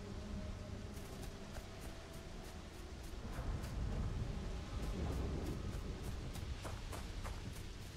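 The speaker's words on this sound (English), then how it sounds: "Maybe the rain and lightning is a clue we're getting close?" Rolling video-game thunder rumbles low under a constant hiss of rain, swelling midway, with faint rhythmic ticks above the storm and no talking.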